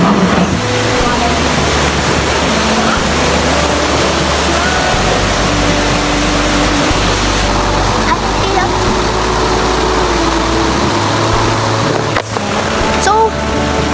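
A waterfall roars in a steady, loud, broadband rush that fills the whole stretch, with a low engine-like hum underneath and brief voices.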